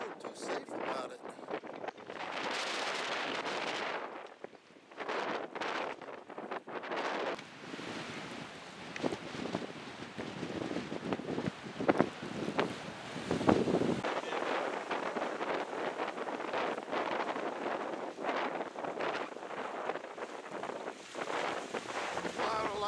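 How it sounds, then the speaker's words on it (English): Strong nor'easter storm wind roaring and buffeting loudly and continuously, with broadband gusts and rumble near the coast during flooding, some intermittent speech-like sounds mixed in. "some serious wind down here"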